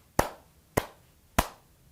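Three sharp hand claps onto the lap, made as a grounding gesture during a therapy demonstration, evenly spaced about half a second apart, close and crisp, with no talking.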